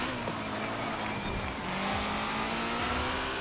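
A Toyota Celica GT-Four RC ST185 drives through rain in the Forza Horizon 4 racing game, its engine droning steadily with a faint tire note, close and continuous throughout.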